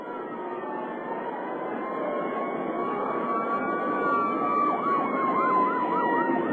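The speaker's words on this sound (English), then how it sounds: "Ambulance races down Cedar Street, past the third base side." Ambulance siren wailing loudly and steadily as the vehicle races down Cedar Street past a baseball stadium, its pitch rising and then warbling in fast cycles with no talk over it.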